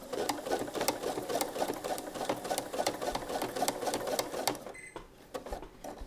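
A sewing machine runs steadily at close range, stitching elastic onto fabric in a fast even whir. It pauses briefly near the end and then starts again with a few stitches.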